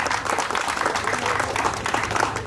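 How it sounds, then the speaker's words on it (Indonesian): A crowd at a Toyota Vios owners' gathering in Johor applauds steadily, with dense clapping from many hands sustained at an even level throughout. "Okey, tepukan kepada anda semua."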